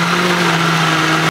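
A kitchen blender runs at steady full power, grinding thick cooked mung beans with coconut milk into a dense paste; a loud, constant motor whir with a strong hum that cuts off abruptly at the end.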